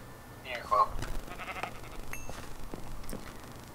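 A Minecraft sheep bleats once, short and wavering, in a quiet game scene, followed by faint scattered clicks and game sounds, with a person talking softly nearby.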